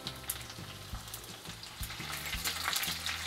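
Chopped garlic, cumin and mustard seeds frying in hot oil in a pan, a busy continuous sizzle with crackling pops and stirring scrapes, close and steady with no voices.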